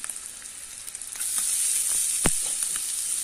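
Garlic frying in hot oil in a pan for fried rice, a soft crackle that swells into a steady, bright sizzle after about a second, with one sharp clink partway through.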